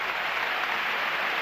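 Polite applause from Barcelona fans at a football match against Deportivo La Coruña, a steady, distant wash of clapping from a stadium crowd that holds an even level without any single sharp claps standing out.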